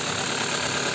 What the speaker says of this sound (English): the purpose of this video is to record the engine